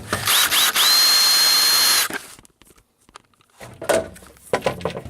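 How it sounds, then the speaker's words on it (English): Power drill backing a screw out of a washing machine's bottom panel, a loud steady whine for about two seconds that stops abruptly, followed by faint clicks and handling noise. "So down here on the very bottom, there's one screw. I'm going to take that out."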